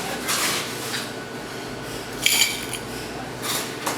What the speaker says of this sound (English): put some ice in it